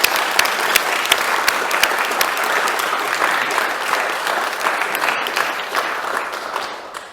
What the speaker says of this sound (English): I believe they will appreciate if you applaud to the Ukrainian military